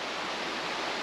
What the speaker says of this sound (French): Je te montre quand même une petite image de ce ruisseau avant de partir d'ici.